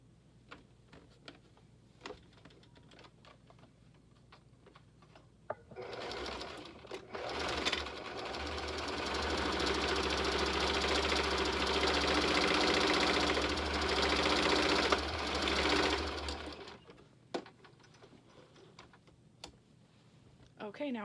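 A sewing machine runs in one long continuous burst, stitching a side seam on a rococo cosplay dress vest, steady and close, with quiet clicks and handling before and after.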